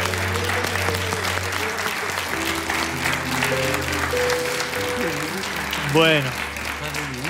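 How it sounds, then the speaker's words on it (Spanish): A studio audience on a Spanish afternoon television show breaks into sustained applause, loud and continuous, while voices talk and a brief tonal sweep rises over it. "Público, un aplauso para ese cámara amateur."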